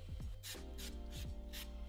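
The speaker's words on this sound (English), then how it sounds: "Spray the cables at the bottom" A spray can lubricates the window cables at the bottom of a VW T5 van door, giving short hissing bursts of spray over faint rubbing and scraping, quiet and close.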